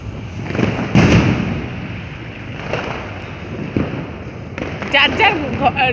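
New Year fireworks burst outdoors as scattered thuds and crackling pops, some sharper and closer, over a constant background rumble while people talk nearby.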